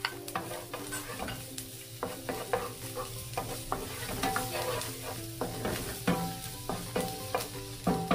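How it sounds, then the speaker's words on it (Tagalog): Chopped ginger sizzles in a little cooking oil in a frying pan, a steady close hiss punctuated by repeated sharp clinks and scrapes of a utensil stirring against the pan. "sa isang frying pan, maglagay lang po tayo ng konting mantika. And then, ilagay na po natin yung ating luya."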